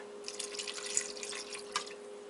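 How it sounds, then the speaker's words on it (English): Almond milk is poured into a food processor, giving a light, close splashing and trickling over a steady motor hum with no talking. "We are going to add a half cup of almond milk. Gonna pour that into the food processor."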